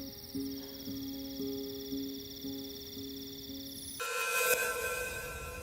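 A telephone rings over and over in steady repeating bursts and goes unanswered. The ringing is fairly quiet, and near the end a sudden burst of louder, brighter noise cuts in over it.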